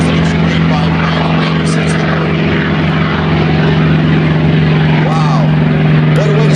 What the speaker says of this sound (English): How beautiful is that little biplane, folks? That is an extreme biplane.